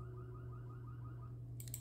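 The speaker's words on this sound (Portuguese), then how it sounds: "Quando clica aqui, ele emite um som de alarme lá na frente" A Yoosee security camera sounds its remote alarm, a car-alarm-like siren heard faintly as a distant, repeating warbling tone over a steady hum, with a sharper burst of tones near the end.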